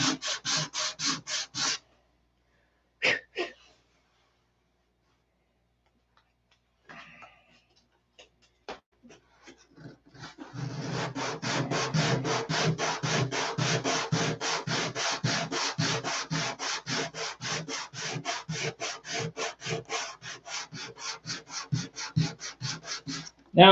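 Hand sanding of a plastic model airplane canopy, a few short scrapes followed by a long, steady run of rapid back-and-forth rasping strokes, close and fairly quiet with no talking.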